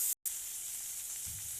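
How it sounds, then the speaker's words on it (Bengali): Chopped onion and tomato frying in a pan give a steady, close sizzle with a short dropout near the start and some stirring rumble toward the end. "এখন পেঁয়াজ কুচি, টমেটো এক এক করে দিচ্ছি। একদম লাল করে ভেজে নিচ্ছি।"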